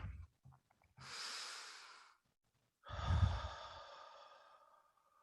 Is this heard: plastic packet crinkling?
no